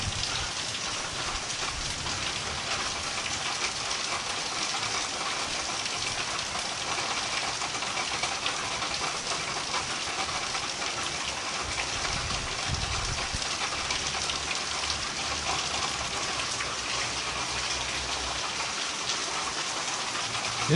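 Steady rain pours down outside near clogged rain gutters, a dense continuous hiss of drops on surfaces with a faint low rumble beneath, no voices.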